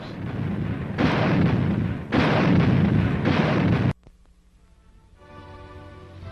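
An automatic anti-aircraft artillery gun fires shells in heavy, sustained roaring blasts, three long loud bursts in a row, then a sharp cutoff into a quieter humming tail.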